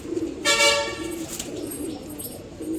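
A female pigeon with pearl-coloured eyes coos in a loft, a short throaty call rising near the start and then fading into softer cooing and background flutter.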